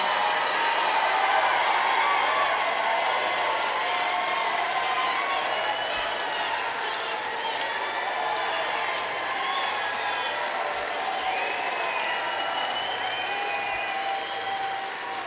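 A large crowd at a JD Vance political rally cheers and applauds, a dense, sustained roar of clapping and voices that stays loud throughout.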